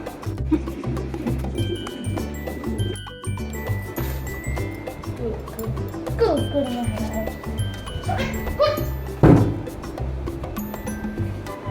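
A dog barks and yips in short bursts in a home kitchen, mixed with clinking and household noise, and voices can be heard around it.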